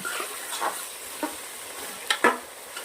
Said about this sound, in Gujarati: શાકને પાંચ મિનિટ આપણે કુકરના અંદર તેલના અંદર કચડાવા દેવાનું છે